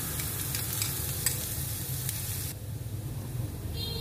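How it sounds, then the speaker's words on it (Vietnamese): Minced garlic and shallots sizzle steadily in hot oil in a pan, a continuous close frying hiss with a brief drop in intensity partway through, no talking. "mình cho tỏi băm với củ hành tím băm vô, mình phi cho thơm"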